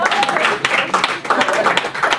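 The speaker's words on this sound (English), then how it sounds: "Give her a big round of applause." Audience clapping and applause at a comedy magic show at a speakers forum, a short burst of dense clapping from a crowd, fairly loud and close.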